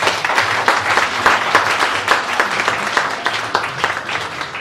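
A congregation at a deliverance church service claps and applauds, with dense, fairly loud clapping that rises and falls over nearly five seconds.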